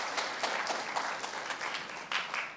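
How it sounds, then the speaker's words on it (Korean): Church congregation at a Sabbath service claps in celebration, a soft, steady patter of many hands heard from a distance, fairly quiet throughout. "다 같이 박수로 이렇게 축하해 주시면"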